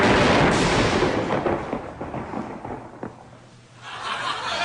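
A loud, broad roll of thunder booms at the start and slowly fades away, then a fainter rumble swells again near the end.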